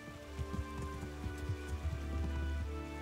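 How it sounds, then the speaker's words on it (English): Rain falling in the Kingdom Come: Deliverance video game, a quiet steady patter of drops with soft low game ambience underneath, no talk. "When it rains, everyone goes and stands underneath things."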